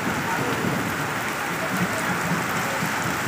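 Heavy rain pours down during a street flood where an overflowing drain has turned the road into a waterway, a dense, loud, continuous hiss of falling water with no pauses.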